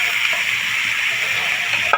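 Fried jackfruit and potato pieces go into a hot pan for a Bengali vegetarian dish, giving a loud, continuous hissing sizzle with a small clatter right at the end.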